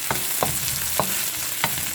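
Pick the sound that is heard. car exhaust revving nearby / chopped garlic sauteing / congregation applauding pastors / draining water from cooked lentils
chopped garlic sauteing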